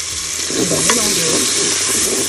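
Tuna, tomato concentrate and pepper concentrate brown in oil inside a Cookeo while being stirred, a loud, dense sizzle with scraping stir strokes and one brief utensil tap.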